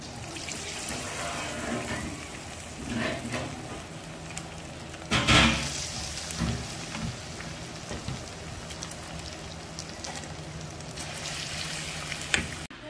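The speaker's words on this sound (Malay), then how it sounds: "sekarang saya nak habiskan menggoreng dulu" Steady crackling sizzle of rice fritters deep-frying in hot oil, with a brief louder burst of spattering partway through.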